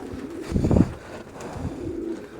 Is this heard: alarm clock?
no